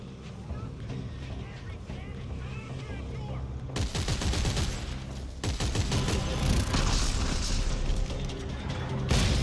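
Enemy gunfire in The Last of Us, rapid bursts of shots and crashing impacts rising to a loud dense volley, with someone talking over the game sounds.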